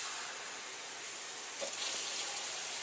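Two cups of cold water pour from a measuring cup into a pot for homemade beef stew, a steady wash of splashing that swells toward the end, with no talk over it.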